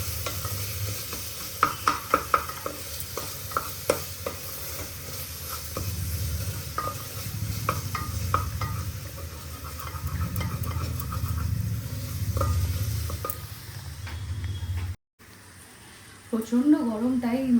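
Curry seasoned with garam masala is stirred and sautéed in a hot pan, with soft sizzling and repeated scraping clicks of a spoon for about fifteen seconds, followed by a brief gap and some faint rattling.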